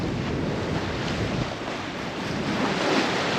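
A sailboat under way in good wind near Moonstone Cove, with rushing wind and breaking waves forming a loud, continuous wash that swells slightly toward the end, alone without any voices.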